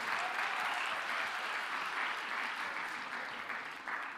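A church congregation breaks into sustained applause, a dense, steady wash of clapping hands that holds at an even level throughout with no voices rising above it.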